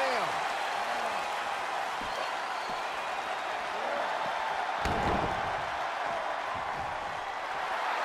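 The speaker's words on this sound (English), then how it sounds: "The sound of this crowd is deafening, and he's asking for more." Wrestling arena crowd in WWE 2K22 roaring steadily as a broad, continuous wash of noise, with a heavy thud near the middle and a voice faintly underneath.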